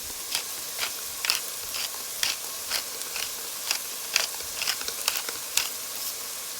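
Long green beans (bora) and vegetables with black pepper being stir-fried in a pan, a steady soft sizzle broken by regular sharp scraping and clattering strokes of stirring, close and moderately quiet with no voices.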